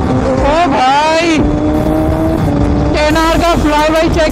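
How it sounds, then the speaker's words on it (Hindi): A Kawasaki ZX10R superbike flies past twice at high revs, each pass a loud rising then falling engine scream, with a steady engine drone between them. "एनआर का फ्लाई बाई चेक किया गाइस"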